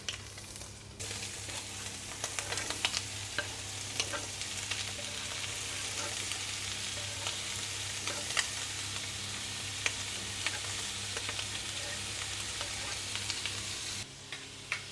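Bacon fries in a pan with a loud, steady sizzle and crackle, while a spatula stirs it in scattered scrapes and taps, heard close up with faint talk at moments.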